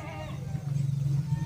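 An Etawah goat bleats nearby in a drawn-out, wavering cry on a goat farm, with more bleating layered faintly in the background.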